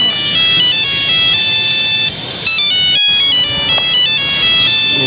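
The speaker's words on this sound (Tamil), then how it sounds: "ஃபோன் அடிச்சுட்டே இருக்காங்க கட் பண்ணு." A phone rings on and on, a loud close melodic ringtone repeating its pattern with a brief pause midway, heard alone without speech.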